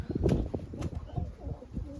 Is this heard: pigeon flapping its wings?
yes